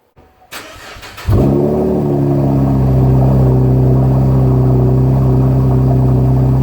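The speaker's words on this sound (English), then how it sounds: "cold startup 2015 Camaro" A 2015 Camaro cold start: a brief crank, then the engine catches with a loud surge and settles into a steady, deep, close idle rumble, with no talking.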